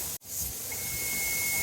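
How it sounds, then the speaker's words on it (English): Hot steam venting from a pressure canner while canning chili gives a loud, steady, broadband hiss that runs almost unbroken, with one brief dropout near the start. "it is hot steam coming off there"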